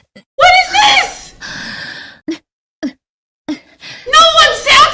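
Breathy, moaning voice noises of a video game character climbing, heard in several short bursts with gaps between, loud and close, with a speaking voice present.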